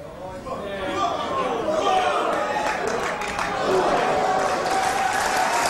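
A large crowd at the 1982 Embassy World Snooker Championship, Steve Davis versus Tony Knowles, fills the hall with steady applause mixed with excited chatter, a continuous wash of clapping and voices that swells slightly toward the end.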